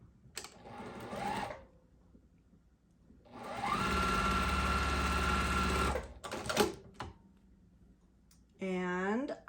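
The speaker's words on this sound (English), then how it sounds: "I'm going to sew that on." A domestic sewing machine stitches quilt block fabric in three short, rapid whirring runs, the longest lasting a few seconds, with a brief voice at the very end.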